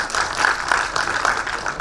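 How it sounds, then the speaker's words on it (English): Brief burst of audience applause at a fintech conference, a dense wash of many hands clapping at steady volume throughout. "A round of applause for our judges,"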